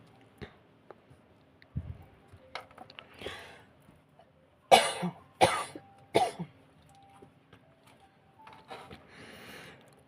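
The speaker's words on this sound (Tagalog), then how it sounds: "Hindi ko makontrol yung pag-ubo ko." Several sharp coughs in a short cluster, with a couple of lighter coughs and throat clearing before and after, close to the mic in a quiet room.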